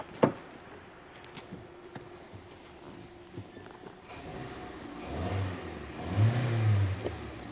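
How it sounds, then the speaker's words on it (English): A Hyundai Elantra engine with a rough-running surge fault idles quietly at first, then revs up in two swelling bursts toward the end, each rising and falling. "I'm gonna rev up the engine and then I'll turn it off."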